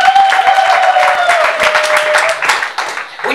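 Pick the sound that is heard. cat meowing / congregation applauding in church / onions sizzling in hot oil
congregation applauding in church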